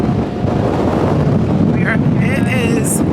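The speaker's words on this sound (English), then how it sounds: "It is windy and chilly." Wind blows across a cruise ship deck off Nassau, Bahamas, a loud continuous buffeting rumble against the microphone, with brief voice fragments near the end.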